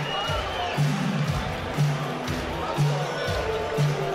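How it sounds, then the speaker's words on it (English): A crowd cheers and applauds Danish fighter Mikkel Emil at a fight-night event, a steady, fairly distant hubbub of cheering with people talking over it. "he's getting the applause that he really"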